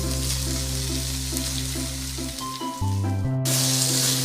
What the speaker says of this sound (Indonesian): Tumis daging secukupnya sekitar 5 menit.